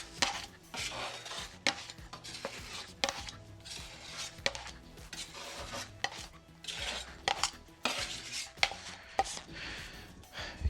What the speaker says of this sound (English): So let's scrape up some of this extra before it goes flying off everywhere.